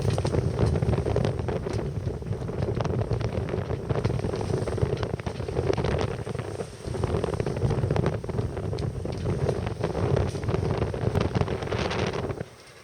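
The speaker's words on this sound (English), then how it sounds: "It was getting too windy and wet to carry on filming." Strong wind roars and buffets the microphone continuously on a boat at sea on the Firth of Clyde, with rushing water beneath and no talking.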